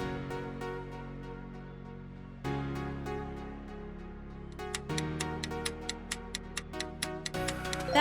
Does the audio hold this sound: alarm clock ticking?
yes